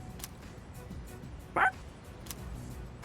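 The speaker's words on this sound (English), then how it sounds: "one loyal dog." A single short bark from Koromaru, the loyal dog in the video game Persona 3 Reload, rising once near the middle over a quiet low background.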